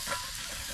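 Steak wrapped in back bacon frying in a pan over a campfire on a cold camping trip, a steady soft sizzle throughout with a brief louder crackle near the end.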